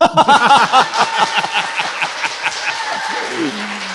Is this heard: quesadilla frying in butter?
no